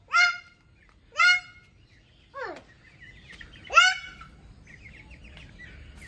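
Loud honking bird calls sound in a rough sequence of four separate cries, close and clear, with fainter chatter and rustling between them while chickens are chased around a home.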